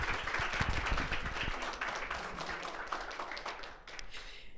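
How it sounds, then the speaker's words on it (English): Audience at a university panel event applauding a speaker as he is introduced, a sustained, fairly close burst of many hands clapping that tapers slightly near the end. "Everyone, please give a warm round of applause for Daniel Bessner."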